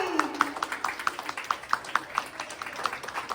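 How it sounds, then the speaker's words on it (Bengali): A small group claps in a steady, fairly even rhythm, with a voice heard briefly at the start, applauding after a youngsters' drama performance at a Durga Puja celebration. "আমাদের বীর পুরুষের জন্য জোরে হাততালি।"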